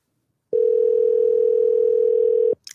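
A telephone call rings out with a single loud, steady ring tone lasting about two seconds, heard alone.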